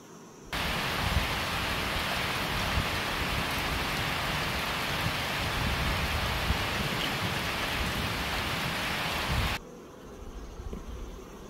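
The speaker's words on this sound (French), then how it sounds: "Il pleut énormément en ce moment." Heavy rain pours in a dense, steady hiss during an outdoor beehive inspection. It lasts about nine seconds, then cuts off abruptly to a much quieter background.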